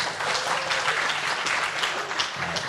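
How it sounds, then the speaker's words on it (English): Applause from a conference audience at a talk on Indonesia's role in global value chains, a steady dense clapping that fills the room without a break and carries on alone, with no voice over it. "Please give applause to them."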